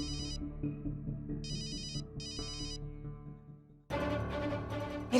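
A phone rings with a repeating electronic tone in short bursts over a soft background melody, and louder dramatic music cuts in near the end, in a Hindi crime drama scene.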